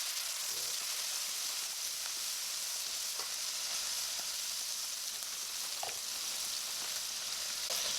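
Curry cooking in hot oil with onions in a pan gives a steady, close sizzle and hiss, with faint stirring scrapes now and then and no talk.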